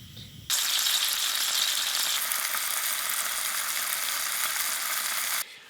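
Trout seasoned with lemon pepper sizzles in a small pan on a winter camping trip on ice, a loud, steady frying hiss that starts abruptly and runs for about five seconds before cutting off.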